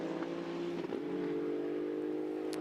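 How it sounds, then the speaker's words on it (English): GT2 race cars passing the timing line during qualifying at Monza, a steady distant engine drone holding pitch with a brief shift midway, no voices. "Cars going then down over the timing line"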